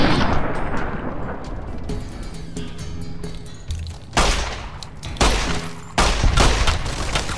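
Heavy gunfire erupts in Fallout: Dust, a video game. Bursts and booming volleys arrive in loud, ragged clusters, and the shots stack densely through the stretch.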